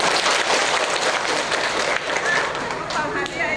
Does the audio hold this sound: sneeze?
no